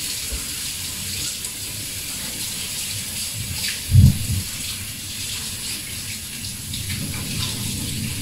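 A kitchen tap runs steadily with water splashing into a sink during handwashing, a constant broad hiss with a brief louder splash near the middle.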